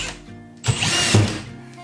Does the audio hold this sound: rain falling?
no